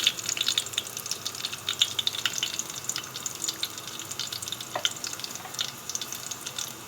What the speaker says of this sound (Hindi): ज़ीरा भी आप देख रहे हैं फ्राई हो गया है।